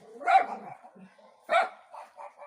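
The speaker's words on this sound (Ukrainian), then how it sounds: "І щось собаки розгавкались, тільки взяла телефон." Dogs barking outdoors in a rural yard at dusk, two sharp barks about a second apart with fainter yips and whimpers between, moderately distant and alone without talk.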